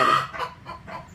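Domestic hens clucking close by, a few short rhythmic clucks over about a second with no talking.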